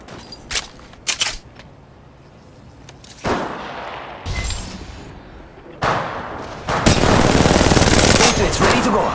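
Weapon fire in the Apex Legends battle royale game, starting with a few sharp single shots and building into louder sustained automatic bursts near the end, heard close.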